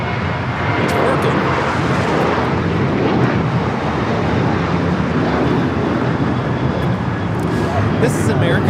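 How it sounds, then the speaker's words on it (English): An American Airlines Boeing 737-800 takes off at LAX bound for Phoenix, its jet engines a constant loud rushing roar with some wind buffeting, and a voice faintly audible over it. "This is American Airlines 1994 taking off to Phoenix on the 737-800."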